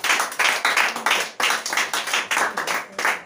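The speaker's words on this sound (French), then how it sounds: "If there's no question, we will clap for God." A church congregation claps in unison to acclaim God, a loud, rhythmic series of hand claps in quick repeated bursts, close and full, with no talking over it.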